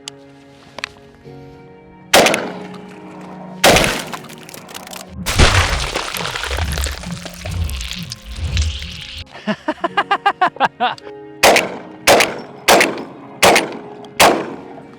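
A Turkish Benelli-style semi-automatic shotgun fires at a target: sharp, loud blasts, one burst of rapid shots followed by a string of evenly spaced single reports, with a rattling mechanical stretch in between.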